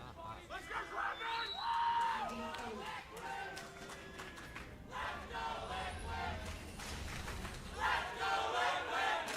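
An esports arena crowd at a League of Legends LCS NA Spring 2016 match between Cloud9 and Team Liquid chants and yells for Team Liquid, a loud rolling mass of voices swelling in waves beneath steady commentator talk.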